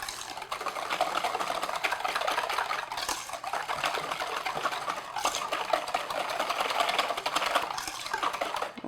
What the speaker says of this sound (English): And just whisk that in.